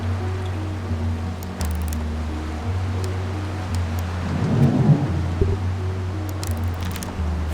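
Rain from a thunderstorm in the video game Retropolis 2, heard as a steady wash with a low rumble of thunder swelling near the middle, alone and without speech.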